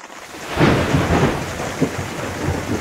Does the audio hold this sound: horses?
no